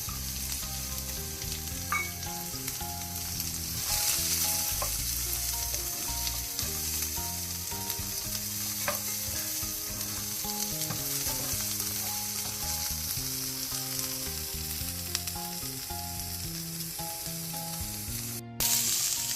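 Chopped onions fry in a pan for South Indian tomato chutney, giving a steady, crackling sizzle that runs unbroken beneath louder background music.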